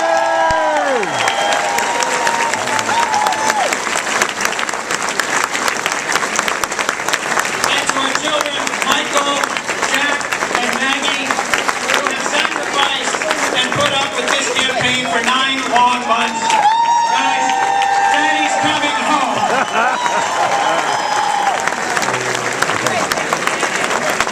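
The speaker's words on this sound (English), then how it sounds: "Please, a round of applause." A large crowd applauds and cheers loudly and steadily for a long stretch at a Delaware political victory speech, with whoops and voices rising through the dense clapping.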